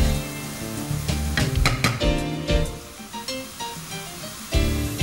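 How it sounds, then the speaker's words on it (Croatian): Chopped onion fries in butter in a hot pan over low heat, giving a steady close sizzle broken by clinks and scrapes of stirring. "i na laganoj vatri pržimo dok luk malo ne omekša."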